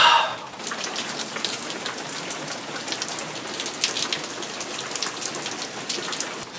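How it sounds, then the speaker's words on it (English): Steady rain falls on a surface during a spring break trip, a dense, continuous hiss with scattered louder drops throughout and no voices. "It's raining 2 days in a row?"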